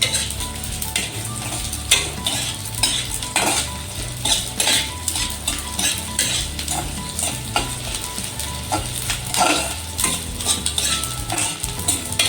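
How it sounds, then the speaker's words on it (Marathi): Edible gum is roasted in ghee and stirred hard in a pan. Steady frying sizzle sits under frequent metal spoon scrapes and clinks, loud and close, with no talking. "हे तुपामध्येच आपल्याला हे जो डिंक आहे हा पण भाजून घ्यायचा छान."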